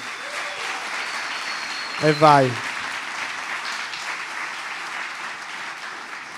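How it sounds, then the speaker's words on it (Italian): Studio audience applause at the opening of the Tintoria podcast show, a steady wash of clapping under a brief spoken remark from a man. "Applauso."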